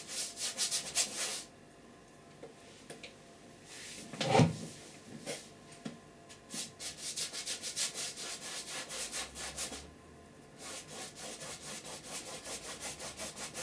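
A bristle brush scrubs oil paint onto canvas for a seascape sky, making repeated close, dry rasping strokes in short rhythmic bursts with brief pauses and a single sharper scrape partway through, with no voices.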